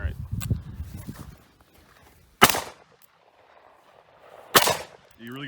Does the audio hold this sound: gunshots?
yes